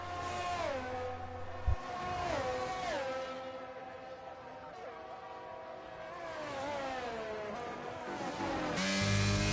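Formula 1 race cars in a racing video game, their high-pitched engines whining up and down through gear changes as several cars pass, loud and continuous throughout.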